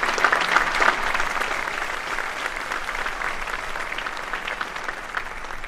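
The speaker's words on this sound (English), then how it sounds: "So another round of applause for you." Sustained applause from a large audience at a university graduation ceremony for the Class of 2017, steady and dense throughout without any voices over it.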